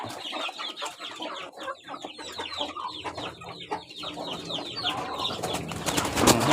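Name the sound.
chickens and chicks clucking at evening feeding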